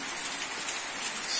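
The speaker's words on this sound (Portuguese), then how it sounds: "Chovendo aqui na nossa plantação" Steady rain falls on a plantation in the sertão, a dense, continuous hiss of drops on surfaces, even and close, with no voices.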